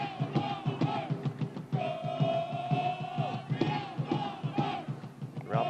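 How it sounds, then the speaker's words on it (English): Real Monarchs soccer supporters in a stadium cheering loudly during a match against Sacramento Republic, sustained yells and chanting voices rising and falling in a rhythmic, crowd-wide roar with a long held shout in the middle. "Real Monarch supporters loud and cheering."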